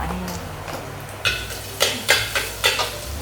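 Ginger slices sizzle as they are stir-fried in oil in a wok, with several sharp scraping stirs of a spatula over a soft, steady hiss, close and fairly loud.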